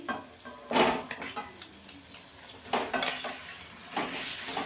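A kilo of chicken, marinated in salt, turmeric and vinegar, goes into a pan of well-fried spice masala for a Bengali lal jhol, with bursts of sizzling and metal-on-pan scraping and clatter near and fairly loud.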